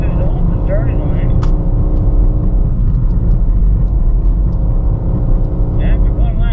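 2024 BMW M2 cars launching off the starting line at a BMW Performance Driving School drift event, a loud sustained engine roar with rising revs, heard from inside the car.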